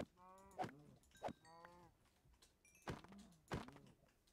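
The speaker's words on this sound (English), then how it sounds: "Look how many cows there are." Cows moo repeatedly in the Minecraft video game, several short synthetic lowing calls spaced irregularly over a few seconds, faint and with no voices.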